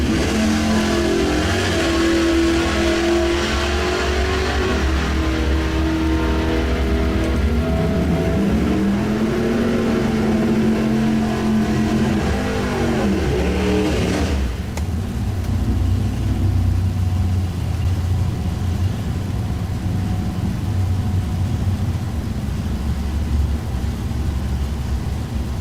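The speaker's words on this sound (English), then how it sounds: "For the wheel standing, hard charging Pontiac, and Brad Burton tries to chase him down." A wheel-standing Pontiac and a rival drag car launch hard in a bracket race, engines roaring loud and close with rising revs, then the noise cuts to a steady distant drone of engines and crowd.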